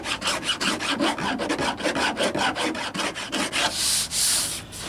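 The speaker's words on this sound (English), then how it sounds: "Just take your file. You don't have to put a whole lot of pressure on it, it cleans it right up." A hand file trims the edge of a Jeep Wrangler YJ fender flare in quick, even rasping strokes, about five per second, close and loud, with a brief harsher scrape near the end.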